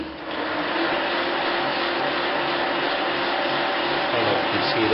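A Smithy Granite I-Max lathe/mill quick-change gearbox runs with a steady, loud mechanical whir and hum, unbroken throughout and close to the listener.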